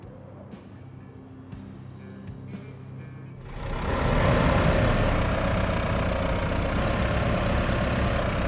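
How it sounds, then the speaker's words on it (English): A small farm tractor with a cab and a little crane, in a RoadCraft game, starts into a loud, steady engine idle. Its low rumble continues unbroken after a quieter opening, with no talk. "It's just a tractor with a cab and a little crane."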